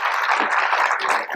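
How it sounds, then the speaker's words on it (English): Brief, dense applause from a conference audience at an innovation fair, a steady close wash of many hands clapping together without talk. "Thank you, and a round of applause"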